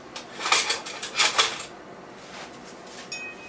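A serving utensil scrapes and clinks against a baking dish of chicken pot pie, a few bright metallic scrapes close by, then quieter handling and one last small clink.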